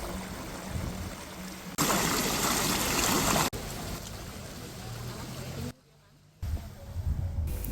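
Flowing water rushes steadily, louder in the middle stretch, with a brief drop to near silence before the murmur of the stream returns.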